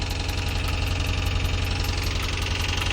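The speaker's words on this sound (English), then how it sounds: "Get y'all a cold start on here, man. Nice little cold start." A 6.1 Hemi V8 in a 20-year-old Chrysler 300 SRT8 runs loud and close on a cold start, a steady, throbbing idle with a pulsing rumble.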